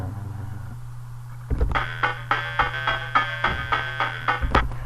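A pattern plays back in Arkos Tracker music software after a low steady hum: a loud, regular run of chiptune-style note hits, repeating rhythmically for several seconds with no voices.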